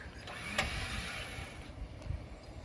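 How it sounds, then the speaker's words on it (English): Mechanical whirring and creaking from a Warn EVO 10s winch on a GX470 as it strains to pull bushes out of the ground, with a sharp click or snap near the start and a steady mechanical drone under it. "the winch for something super practical. Pulling out bushes."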